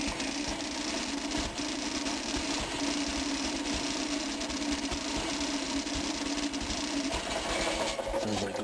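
A small Onan engine runs steadily after carburetor work with the mixture screw adjusted, giving a rapid, rattly, sewing-machine-like chatter that stays loud and constant throughout, with no voices over it.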